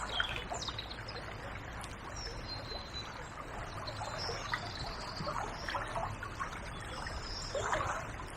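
Fast water runs steadily along the edge of a current in a river where dace sit, a continuous close rushing trickle, with faint birdsong over it.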